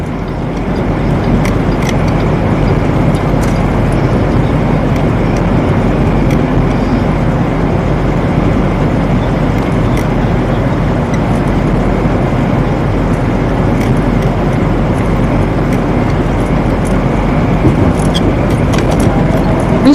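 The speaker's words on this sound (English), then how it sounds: "They don't hear the truck running." A semi truck engine idling, heard from inside the cab as a steady loud low rumble that continues unchanged, with small rattles and clicks scattered throughout.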